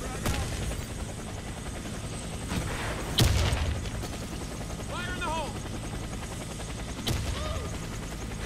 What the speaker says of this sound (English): Helicopter is inbound.